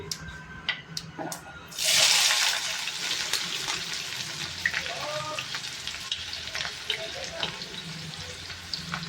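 Chopped onions tipped into hot oil with crackling cumin and mustard seeds, a sudden loud hiss of sizzling that settles into steady close frying with scattered pops and clicks.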